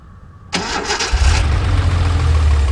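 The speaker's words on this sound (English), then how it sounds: "we'll go ahead and start it up here" A 1978 Datsun 280Z with its L28 engine cranks briefly, catches and settles into a steady, rumbling idle, heard up close with no talking.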